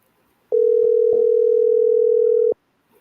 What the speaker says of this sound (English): See if we will pick up the phone.